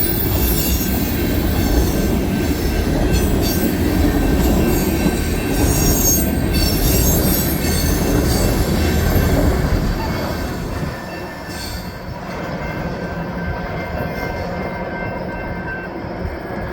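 CSX freight trains pass each other at Hood Siding, a dense, steady roar of rolling railcars with wheel squeal and clatter close by, easing slightly toward the end.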